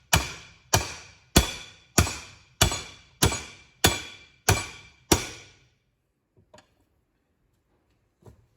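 Hammer blows on a front axle during output shaft seal and bearing work: nine loud, ringing metallic strikes at a steady, even pace, then a few faint taps after they stop.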